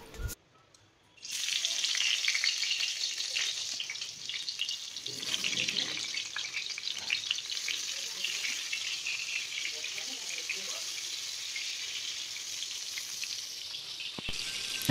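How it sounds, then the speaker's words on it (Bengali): Eggplant pieces rubbed with salt and turmeric go into hot oil in a kadai, bursting into a loud, steady sizzle that continues throughout, with faint clinks of handling and no talk. "এবার নুন হলুদ মাখানো ছিল বেগুনগুলোকে, এবার এক এক করে ছেড়ে দেবো।"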